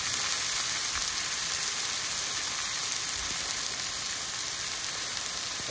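Steak sizzles in a pan in its own rendered fat with no added oil, a steady, dense crackle and hiss that runs evenly throughout, close and fairly loud, with no talking.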